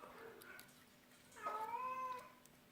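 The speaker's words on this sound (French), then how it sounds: "miauler sans arrêt" A domestic cat, a female in heat, gives a single drawn-out meow near the mic, rising then tapering, after some faint soft rustling indoors.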